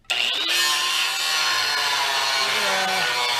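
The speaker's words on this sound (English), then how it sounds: "So we're going to cut a piece, cut a piece, cut a piece" Metal plate pieces being cut for a 1957 Chevy Bel Air convertible chassis, a steady loud grinding, sawing rasp that starts abruptly and runs unbroken throughout, close up with no talk.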